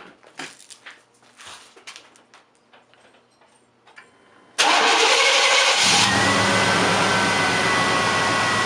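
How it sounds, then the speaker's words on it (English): A 1997 Chevy Suburban truck engine cranks and catches after several seconds of quiet clicks and handling noise, then settles into a loud, steady close-up idle roar. "So I'm gonna start up the truck, we're gonna let it fill, and we're gonna let the truck warm up"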